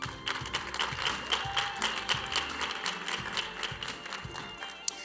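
Light, scattered clapping from a crowd at a Mister and Miss HBCU pageant competition, steady but thin, with a low murmur underneath and no single voice standing out.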